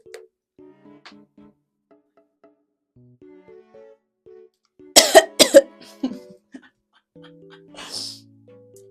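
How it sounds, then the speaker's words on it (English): Two or three sharp, loud coughs burst close into a microphone, set between stretches of soft tonal background music. "So I gotta cough into the mic."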